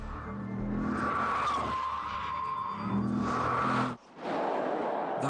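Car tires squeal steadily during hard cornering, a sustained loud screech with engine noise beneath, briefly dipping near the end before resuming, with no voices.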